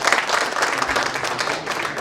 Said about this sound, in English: a round of applause to our presenters